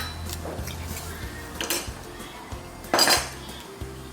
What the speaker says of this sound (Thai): แล้วก็คนเครื่องแกงส่วนผสมนะ